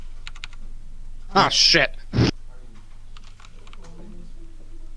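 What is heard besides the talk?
typing on a normal computer keyboard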